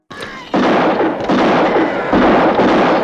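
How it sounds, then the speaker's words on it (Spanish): Gunshots fired by a gunslinger in a western film, a few loud booming blasts in quick succession with a long rumbling echo filling the gaps between them. "el extraño desenfunda y dispara"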